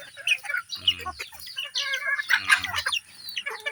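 Farm chickens cluck and murmur softly while feeding in the morning, a busy cluster of short calls close by with no talk.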